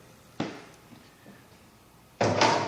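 Firebox door of a Hearthmaster wood stove by Kitchen Queen, a metal clunk as it opens, a quiet pause with faint small knocks, then a louder rattling metallic clatter near the end.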